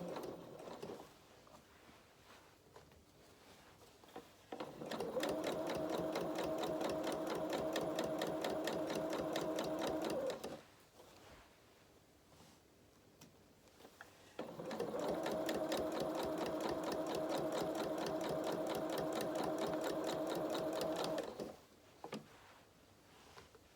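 A sewing machine stitches steadily over a bulky seam in two long, even runs of rapid, close mechanical whirring, with a quieter pause between them.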